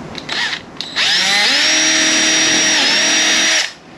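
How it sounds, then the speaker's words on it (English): A power drill boring a hole, its motor whining loud and steady for a few seconds, then spinning down, close up with no talk. "and then we drill it"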